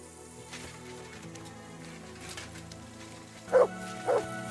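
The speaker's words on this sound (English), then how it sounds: "Good dog." A dog in the Kingdom Come Deliverance 2 video game gives two short, fairly loud barks close together near the end, over a low, quiet background.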